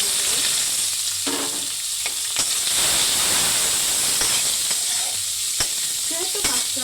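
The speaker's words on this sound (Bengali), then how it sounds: "আমার পেঁয়াজ ভাজাটা হয়ে গেছে।" Sliced onions and chilies frying in a pan for a poa fish curry, with a loud, constant sizzle and hiss broken by sharp stirring clicks and scrapes of the spatula.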